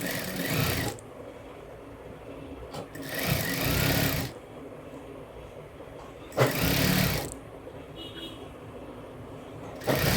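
Sewing machine stitching a blouse runs in three loud close bursts of rapid whirring, with quieter pauses between them carrying faint room noise.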